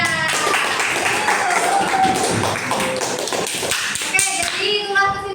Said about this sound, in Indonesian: Oke, tepuk tangan buat Dea.